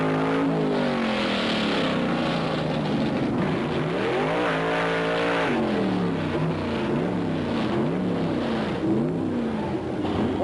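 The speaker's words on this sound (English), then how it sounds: "As soon as the last yellow gets good and bright, you pop the clutch and the button at the same time." A vintage drag race car launches off the line, its engine roaring loud and close, pitch climbing and dropping through revs and shifts over the whole stretch with no talk.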